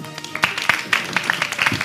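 Game-show audience applauding a finalist in a televised talent contest, short burst of scattered hand claps under a speaking voice, moderately loud and close.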